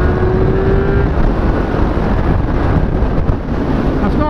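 A 2016 Kawasaki ZX10R sport bike accelerates hard, its engine a steady, loud roar buried in heavy wind rush that persists for the whole stretch without a break.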